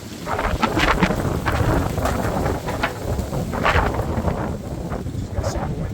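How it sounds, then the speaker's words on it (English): Strong wind rushes and gusts outside on a Michigan day, a continuous moderately loud low roar with swelling bursts and no clear talk. "Just got super windy outside"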